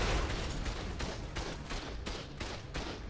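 Turrets fire in the video game ARK, a rapid, dense rattle of repeated gunshots with rhythmic bursts, loud and continuous throughout without talk.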